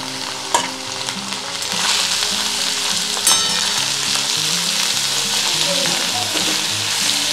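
Finely chopped fenugreek leaves tossed with garlic into hot oil in a kadhai for aloo methi, sizzling steadily and loudly, with occasional stirring clinks against the pan.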